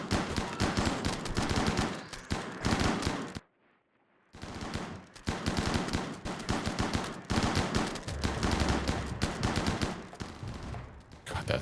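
Dense video-game gunfire with many shotguns firing, rapid overlapping blasts nearly continuous, broken by a brief silent gap before the shooting resumes just as loud.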